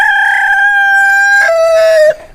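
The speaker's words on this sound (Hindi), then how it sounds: "ये हमारा मुर्गा है" A rooster kept in a rooftop coop crows loudly and close, one long clear cock-a-doodle-doo rising then dropping in pitch before cutting off, with no voices over it.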